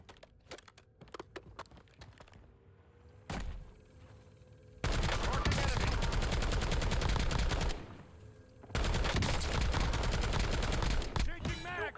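Loud, sustained bursts of automatic gunfire in a Call of Duty–style multiplayer shooter, with sparse single shots early on, then long dense volleys broken by a short pause.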